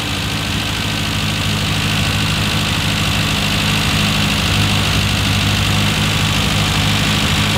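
A classic Mini engine with a carburettor, being tuned to run on E10 fuel, idles close by. It makes a loud, steady, throbbing hum with constant vibration and holds an even tone, and no one speaks.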